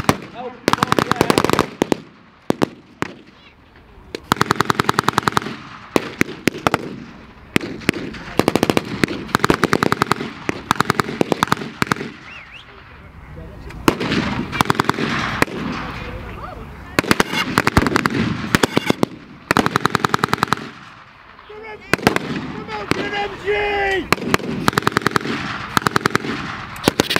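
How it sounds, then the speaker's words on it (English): Blank-fired machine guns and staged explosions at a military battle reenactment show with tanks and trucks, loud rapid bursts of gunfire in long clattering volleys with brief pauses, close and outdoors, someone talking between and under the shooting. "Huge explosion still going on behind me over here"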